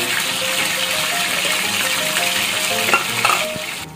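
Chicken drumsticks fry in a pan with a steady, close sizzle and crackle, and a few sharper pops and scrapes near the end as they are turned.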